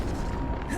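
An Expelliarmus spell blast from the video game Hogwarts Legacy: a brief, loud, booming burst with a dense low rumble that fills the whole moment.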